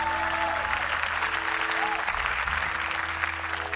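An audience claps for Chandra at a footballer's inspirational event, dense steady applause filling the space throughout, loud and continuous with a few faint voices mixed in.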